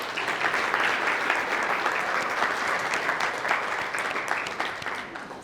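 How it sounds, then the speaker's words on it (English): Sustained audience applause at a genomics and biotech talk as a presenter is welcomed onto the stage, a dense steady wash of clapping that holds at even loudness throughout. "let's give her a round of applause."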